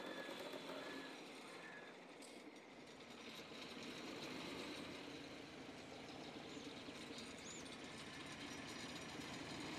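Wheeled tractor engine in the Farming Simulator video game, a steady, loud, rumbling drone with a rattling mechanical texture that runs continuously without talk.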